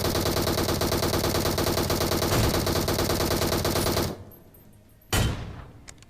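Rapid automatic gunfire in the battle royale game BGMI, a loud continuous burst of closely spaced shots for about four seconds, then a brief lull and one more sharp report with a fading tail.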